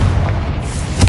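A Confringo spell blast in Hogwarts Legacy gives a short, loud boom with a heavy low thump, and a second sharp burst lands just before it ends.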